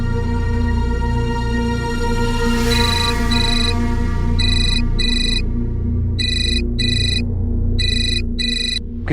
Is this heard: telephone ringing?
yes